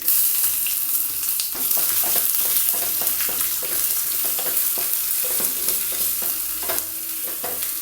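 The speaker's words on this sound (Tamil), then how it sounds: "இப்போ சட்னியை தாளிச்சிக்கலாங்க" Mustard seeds, urad dal and curry leaves sizzle in hot oil as they are tempered for a red coconut chutney, with spoon stirring scrapes and crackles over a steady frying hiss.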